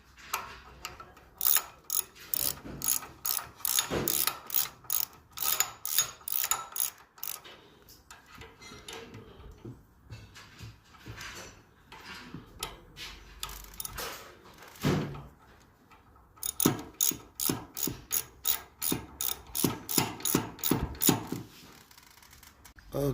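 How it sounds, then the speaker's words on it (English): A 3/8 Allen bit on a ratchet clicks in repeated bursts while brake caliper bolts are tightened on a 1967 Chevy Impala front suspension, with crisp nearby pawl clicks separated by short pauses. "Get you a 3/8 Allen and start tightening these up"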